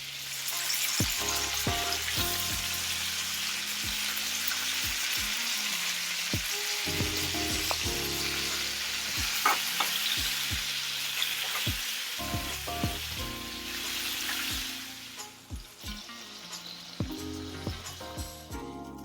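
Steak fries in a pan with garlic butter, giving a steady close sizzle with scattered pops and crackles throughout and no talking.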